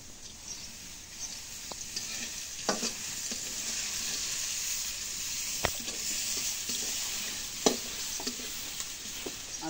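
Onions fry in oil in a wok with a steady, close crackling sizzle, broken by a few sharp clicks and scrapes as they are stirred.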